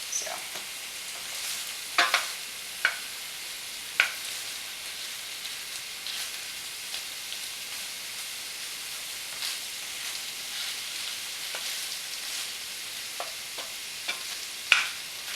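Stir-fry vegetables sizzle and crackle steadily in a pan, with scattered sharp pops and occasional clicks of a utensil against the pan, close and fairly quiet, no talking.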